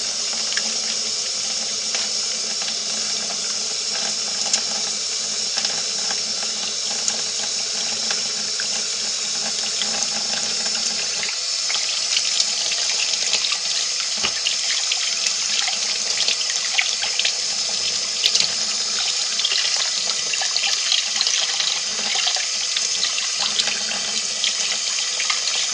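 Tap water runs steadily into a sink as hands are washed with rebatched homemade lye soap, a continuous close hiss and splash with no talking.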